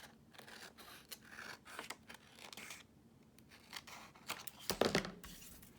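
Paper journal card being cut with scissors, quiet close snips and rustling crinkles with a sharper burst of cutting near the end, no talking.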